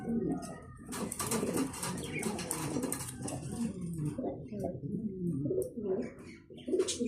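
Pigeons coo steadily at a pigeon farm, a dense overlapping chorus of low throaty calls with some chirps, close and continuous throughout.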